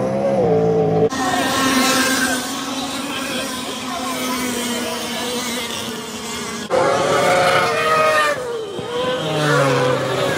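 Race cars at a speedway roar past with loud, sustained engine whine that rises and falls in pitch, with several passes cutting in and out across the clip.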